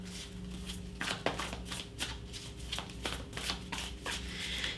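A deck of Guardian Angel Messages tarot cards is shuffled close by in repeated riffling bursts, with crisp card slaps and flutters coming at a fairly regular rhythm.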